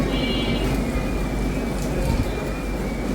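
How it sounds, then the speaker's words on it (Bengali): Rain pours down outside a balcony as an even, unbroken wash of hiss with a faint steady tone running underneath. "দেখেন কি সুন্দর বৃষ্টি হইতেছে"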